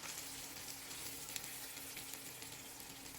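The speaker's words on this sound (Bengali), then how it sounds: "পেঁয়াজ কুচিগুলোকে কিছুক্ষণ ভেজে নেব" Chopped onions fry in hot oil in a pan, giving a steady, even sizzling hiss that runs unbroken for the whole moment with no voices.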